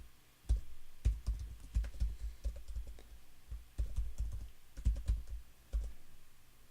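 Someone types a password on a computer keyboard, soft close key taps in irregular bursts with short pauses, quiet and alone with no voices.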